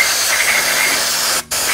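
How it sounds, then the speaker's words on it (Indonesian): Gasoline is sprayed onto clutch parts from a Yamaha All New NMAX 155 scooter in a steady, loud, close hiss that cuts off abruptly for a split second before resuming. "Semprot."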